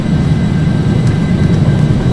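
Hawker 850XP business jet engines at full takeoff power in a flight simulator, a loud, steady broadband roar with a deep rumble that holds constant throughout, no voices.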